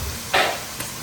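Garlic-ginger paste lands among frying onions in a home kitchen, making a short, bright burst of sizzle that fades under a low background hiss, with a faint second flare just after.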